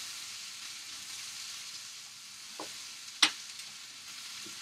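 Apples tipped into a hot pan already sizzling with pancetta: a steady, even frying hiss throughout, with one sharp clatter partway through, close up and with no talking.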